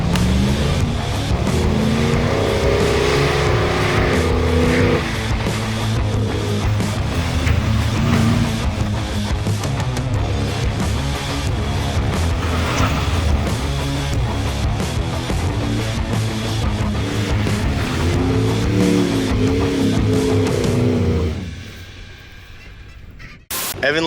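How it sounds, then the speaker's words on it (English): A truck drives along sandy off-road trails near San Felipe, its engine and tire rumble loud and continuous for about twenty seconds before dropping away abruptly. "Evan let me drive the truck."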